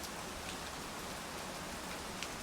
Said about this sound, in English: Outside, it was dim and cloudy, and the rarely falling rain began to drizzle.